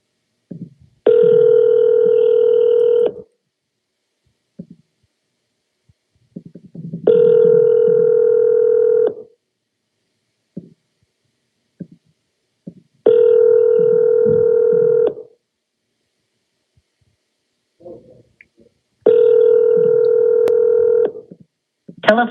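Outgoing telephone ringback tones, four long steady beeps about six seconds apart, loud and clean, with faint clicks in the silent gaps.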